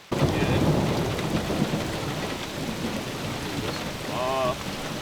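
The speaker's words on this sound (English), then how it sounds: "That's a lot of thunder." Thunder rolls through a storm at a northern forest camp, a deep sustained rumble over steady rain on the surroundings, loud and close, with a faint voice briefly heard near the end.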